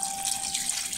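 Water poured into a blender jar holding soaked dried chiles and seasonings for tamales, a steady close splash that runs the full second with no pauses and no talk.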